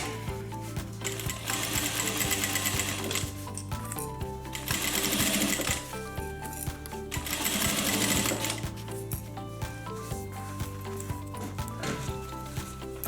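Sewing machine stitching a zipper onto a homemade zip-around long wallet, loud continuous mechanical whirring with rhythmic needle clatter, running steadily up close with brief changes in speed.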